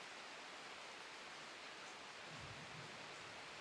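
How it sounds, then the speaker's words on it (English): Steady rainy-season jungle ambience, a dense wash of rain and rustling foliage, soft and continuous with no voices. "I hope you can hear this beautiful jungle sounds."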